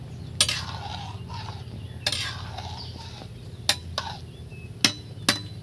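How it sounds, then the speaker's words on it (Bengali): Cabbage curry is stirred in a cooking pan, with a utensil knocking and scraping against the pan in a handful of sharp, irregular clinks over a low, steady sizzle. "আর এই যে নাড়া চলছে, খুব সুন্দর একটা সুগন্ধ আছে"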